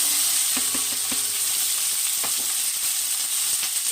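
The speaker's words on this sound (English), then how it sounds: "We're going to use a little bit of coconut oil in here to saute our onions" Steady, loud sizzling of onions frying in hot coconut oil, with a few soft stirring clicks from a wooden spoon scattered through; no voices.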